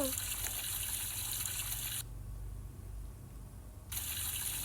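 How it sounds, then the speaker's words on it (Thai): Water runs from a bathroom tap while hands are washed, a steady close gush that cuts off for about two seconds and then resumes, with no talk over it. "อุ้ยปิดน้ำล้างมือ"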